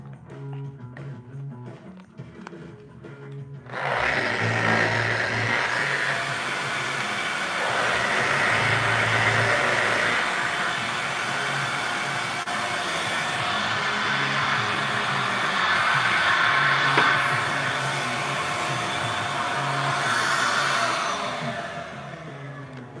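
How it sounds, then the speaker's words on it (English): A DeWalt variable speed sander works a surfboard, starting abruptly after a few quiet seconds and then running as a steady, loud, whirring roar that swells and eases slightly as it moves across the board. "pull out my good old DeWalt variable speed sander"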